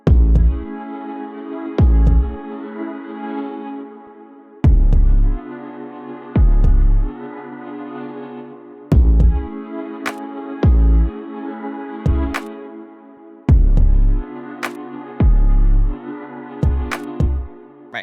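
A simple hip-hop beat: a punchy kick drum with a deep, sustained 808 bass, the hits landing in an uneven syncopated pattern under a droning pad, loud and close with no talking.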